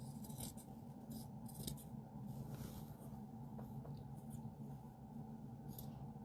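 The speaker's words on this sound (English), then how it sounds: "See, I got to get scissors sharpened again." Dull scissors snip and rasp through fabric while trimming a scrap piece to 21 by 21 inches for a casserole carrier, a steady close run of crunchy cuts without talk.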